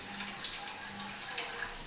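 Rinse water from a spice bowl is poured into a pan of koi fish cooking in oil for Bengali tel koi, a soft, steady trickling splash that stays faint throughout.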